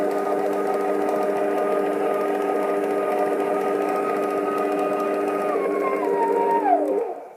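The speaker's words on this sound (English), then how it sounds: "we're just mixing that through, just a little bit longer till it comes through and all the butter is mixed in with the mix" An electric mixer beats butter into lemon drizzle cake batter, a steady loud motor whine with a constant pitch that drops sharply near the end as the machine slows and stops.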